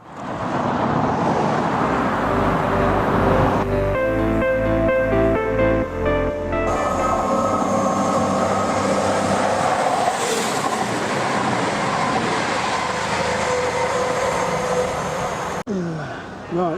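Passenger train pulling into Doncaster Station as the 11:12 service to Lincoln Central, a steady loud rumble of engine and wheels with shifting tonal hums, nearby and continuous, ending in a brief clunk.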